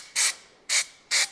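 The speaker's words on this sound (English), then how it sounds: "We're gonna spray it in the trash can." An aerosol spray can fires three short, sharp hissing bursts into a trash can, evenly spaced and close, with quiet gaps between them.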